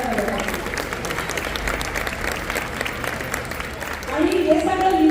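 An audience claps at a Shivaji-era fashion show, a steady crowd ovation of moderate loudness that continues alongside a voice speaking over it.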